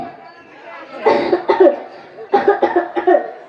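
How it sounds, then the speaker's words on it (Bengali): A man coughs in a doctor's consultation scene in a comic Bengali skit, a short run of harsh, close coughs in two bursts after a quiet start, loud and dry, with no talk over them. "আমার খুব কাশি হচ্ছে"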